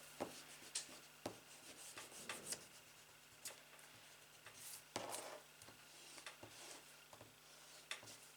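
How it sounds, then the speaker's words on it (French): An eraser rubs out pencil marks on paper in faint, close, irregular strokes, with soft scrubbing bursts and small taps scattered across the quiet. "Je vais gommer les marques."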